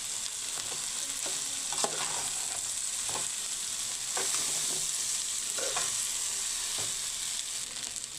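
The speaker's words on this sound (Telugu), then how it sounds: "బాగా కలుపుకుందాం." Rice is stirred through salt, chili and spice masala in a hot pan for tomato rice, repeated scraping strokes over a steady sizzling hiss, close and continuous without voices.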